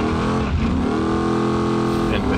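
Hopper vehicle engine in BeamNG.drive revving steadily, a loud continuous engine drone with shifting harmonics, close and dominant throughout.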